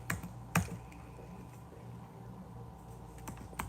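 Keyboard typing while text is erased, a few quick clustered keystrokes near the start and a faint one at the end over a low steady room hum.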